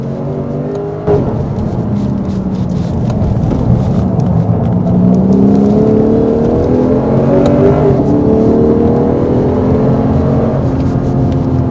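A Lexus RC F on a race track, its engine loud and close as it brakes hard, blips through downshifts into second gear, then revs up again while accelerating out of a turn, with rising, sweeping engine tones throughout.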